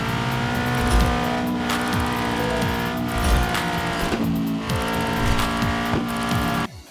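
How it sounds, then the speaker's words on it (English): A car in the Highway Drifter driving game revs loudly with rising and falling engine tones. Repeated tyre screeches cut through in bursts, the whole mix steady and close until it cuts off abruptly at the end. "fairly standard stuff with engine sounds, tyre screeches, it all sounds pretty cool"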